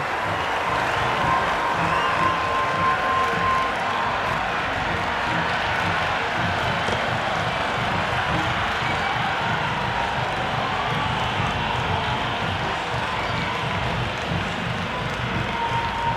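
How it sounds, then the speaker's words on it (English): A cricket stadium crowd cheers at an India vs New Zealand T20 match in Nagpur, a dense, steady roar that stays loud and unbroken throughout with no clear voices standing out. "the crowd have joined the party. It's pretty noisy at the ground."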